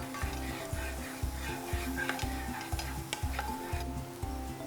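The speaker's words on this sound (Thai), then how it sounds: "ใส่กระเทียมลงไปเจียวให้หอมครับ" Garlic frying in rice bran oil for a minced pork and black olive stir-fry, a quiet steady sizzle under a rhythmic low thumping beat, with no speech.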